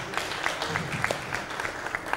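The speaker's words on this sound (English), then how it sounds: "A round of applause, a round of applause." Scattered applause from a modest audience at a Tanzania–Uganda investment and business conference, individual claps standing out sharply over a low hum of room noise, fairly quiet and somewhat uneven.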